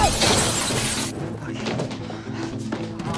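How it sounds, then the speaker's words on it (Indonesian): Shop window glass smashed and shattering, a loud broadband crash at the start that cuts off after about a second, followed by lighter clatter and rustling. "Kelly pun memecahkan kaca tokonya."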